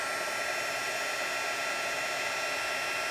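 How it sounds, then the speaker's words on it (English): A handheld heat embossing tool blows and whirs steadily at close range as it melts embossing powder on a stamped card, a constant hair-dryer-like rush with no speech. "And you're going to heat it until that powder melts."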